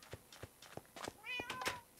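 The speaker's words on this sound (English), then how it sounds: "the sound of our home is just the sound of cats" A cat meows in the Minecraft video game, giving a single short, faint meow after a few soft clicks.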